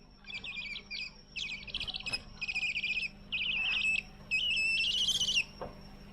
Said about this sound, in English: here we have my owl, and listen to the sound it's gonna make when I give it a mealworm.